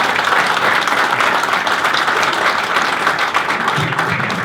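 An audience at a company anniversary event applauds steadily and densely throughout, with no voices over the clapping.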